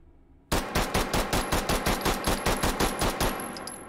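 A SIG-Sauer P226 fitted with a compensator fires rapidly in the VR shooter H3VR, with about fifteen sharp, evenly spaced shots in a quick steady rhythm, loud and close, and no talking.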